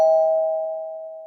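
A cartoon doorbell gives a single loud, sustained electronic ding that rings out clearly and fades slowly, with no voices.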